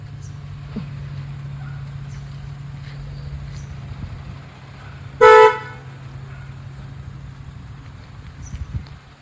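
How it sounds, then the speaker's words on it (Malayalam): A manual car's horn gives one short, loud honk at a gate mid-drive, over a low, steady engine hum. "ഈ ഗേറ്റിൻ്റെ പകുതിയോളം കഴിയുമെന്ന് തോന്നുമ്പോൾ ഹോൺ അടിച്ചോണം"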